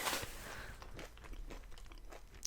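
Crunchy fried potato snack bitten and chewed close up in a quiet setting, with one sharp crunch at the start followed by softer repeated chewing crunches, no talking.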